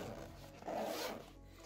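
A zipper on a soldering iron pouch is pulled open in one quick, close rasping stroke lasting about half a second, against a quiet room.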